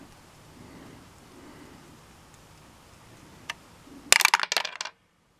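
Plastic dice clatter down through a tabletop dice tower during an Advanced Heroquest board game session, a burst of quick rattling clicks near the end that dies away fast after a quiet stretch and one earlier tap.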